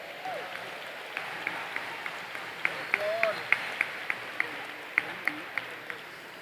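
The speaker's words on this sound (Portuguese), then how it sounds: "Um aplauso ao Espírito Santo." Congregation applause at a church preaching event, a thin spread of clapping with sharper individual claps standing out in a loose rhythm, and faint talk underneath.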